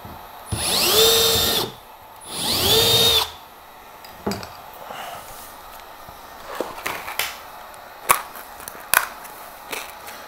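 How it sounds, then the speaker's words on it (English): Power drill boring a hole through a plastic sled runner: two loud whining bursts of the drill motor, followed by quieter scattered knocks and handling clatter. "then drill out your hole"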